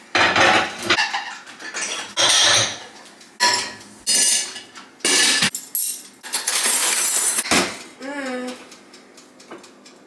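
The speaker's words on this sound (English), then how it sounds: "I'm gonna put away the dishes." Dishes and cutlery being put away in a home kitchen: loud clattering bursts of plates, pots and silverware clinking in quick irregular rounds, close by, with a brief whistle-like tone near the end.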